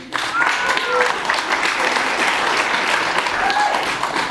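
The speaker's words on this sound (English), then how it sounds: "So I want you guys to give yourselves an applause first." Steady applause from a film event audience, a dense wash of clapping holding at an even level throughout with a few faint voices above it.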